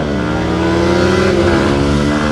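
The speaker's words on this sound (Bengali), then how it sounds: "তো এখন আমরা দুজনে আবার ড্রাগ রেস করবো" A TVS Apache RTR 160 and a Yamaha MT-15 motorcycle drag race side by side, engines revving hard and loud with rising, steady pitch throughout, close and continuous with no talk.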